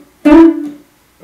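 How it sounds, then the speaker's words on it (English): On guitar, a hammer-on and pull-off are played back to back, producing one plucked note that changes pitch briefly and then decays, clean, close and alone. "we can do a hammer on pull off consecutively to sound like this"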